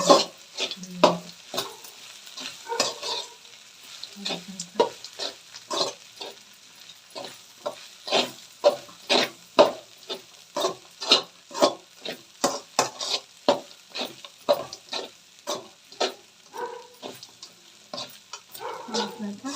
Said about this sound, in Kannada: ಈ ರೀತಿ ಎಲ್ಲ ಚೆನ್ನಾಗಿ ನೀವು ಬೆರೆಸ್ಕೊಬೇಕು